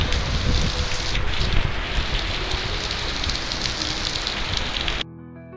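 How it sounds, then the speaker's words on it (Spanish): Heavy rain falls at night in a dense, roaring hiss with gusty wind noise, loud and close to the microphone, continuing steadily before cutting off abruptly near the end. "esta lluvia que era bastante fuerte, como se aprecia"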